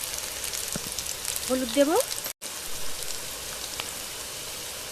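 Pieces of elephant foot yam frying in oil in a pan, with a steady, close crackling sizzle throughout. A voice speaks briefly partway through, and the sound cuts out for a moment.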